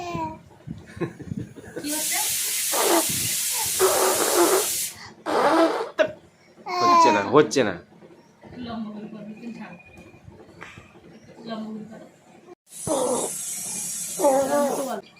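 A girl imitates a pressure cooker whistle with loud, breathy hissing bursts, several long hisses repeated close up, mixed with chatter and laughter from others nearby.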